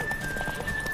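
Clip-clop of a horse's hooves in the video game Witcher 3, a quick run of soft beats within a brief second of steady game ambience and a thin high tone.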